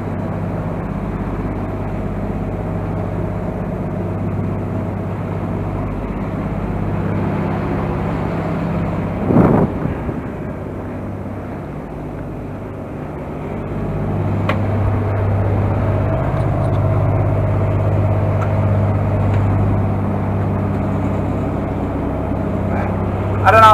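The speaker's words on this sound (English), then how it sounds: "the engine's on because we've got some electrical issues in the engine" A sailboat's inboard engine runs steadily at sea at night, a continuous low drone with a faint brief knock partway through, alone without talk.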